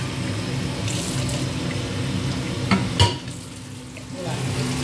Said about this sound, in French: On va rincer notre moulinette.